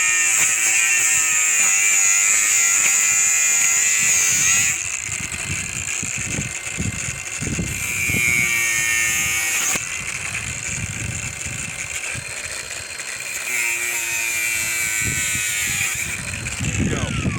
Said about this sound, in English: The grinder with a cutoff wheel is one of my favorite tools.